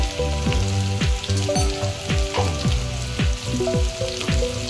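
Potato pieces fry in hot oil previously used for chhena kofta, a dense close sizzle and crackle overlaid with repeated rhythmic scraping strokes of stirring, no speech.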